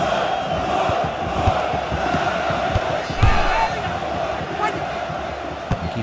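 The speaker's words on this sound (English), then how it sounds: "you can see all the fans that have come out to cheer them on today" Stadium crowd in the 2002 FIFA World Cup football video game, a steady, dense roar of fans cheering throughout with a few brief louder swells, no distinct voices standing out.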